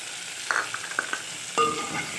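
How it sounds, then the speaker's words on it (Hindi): Tomatoes and spices drop into frying onions for a mixed vegetable sabzi, giving a few quick splashes and a soft, steady sizzle with light stirring sounds, close and fairly quiet. "अब मैं इसी टाइम इसमें ना ये सारे मसाले टमाटर वगैरह डाल दूँगी, बल्कि डाल रही हूँ।"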